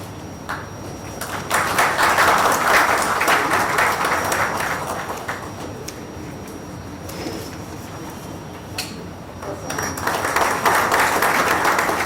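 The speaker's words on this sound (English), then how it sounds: "please welcome Mr. P.R. Ramesh with a loud applause" An audience at a lecture meeting on company law applauds in sustained waves of clapping, dipping briefly in the middle before swelling again near the end.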